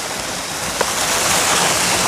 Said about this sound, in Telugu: ఇది వాటర్ఫాల్స్ వచ్చేసినాం